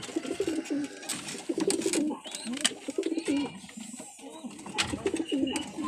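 Domestic pigeons kept in a loft coo repeatedly nearby, their soft throaty calls rising and falling in overlapping phrases, with light rustling and a few faint chirps.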